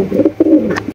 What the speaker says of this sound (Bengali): দর্শক এখানে রয়েছে একজোড়া অ্যান্ড্রপ কবুতর দেখতেই পাচ্ছেন